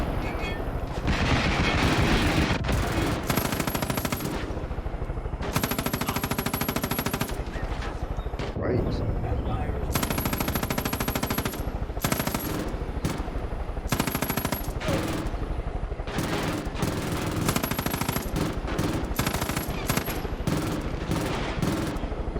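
Dense, sustained automatic gunfire in the video game Far Cry 5, loud bursts of suppressing fire chattering almost continuously with brief gaps, with a voice occasionally speaking underneath.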